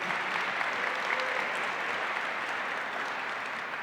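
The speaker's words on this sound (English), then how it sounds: "A round of applause to see Trey Thompson over here" Steady applause from an audience at the Oklahoma Governor's Arts Awards in the state capitol, a continuous even roar of many hands clapping with no voices over it.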